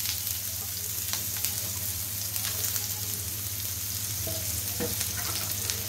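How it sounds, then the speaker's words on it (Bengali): Chopped onion fries in a little oil in a wok, giving a continuous close crackling sizzle with faint stirring scrapes over a low steady hum. "পেঁয়াজটা দিয়ে একটু ভাজা ভাজা করে নিব, বেশি ভাজবো না"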